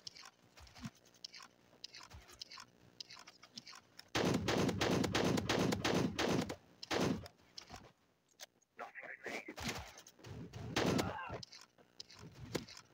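Shotgun gunfire in a video game: a dense burst of loud, rapid cracking shots in the middle, with a voice talking in the quieter stretches around it.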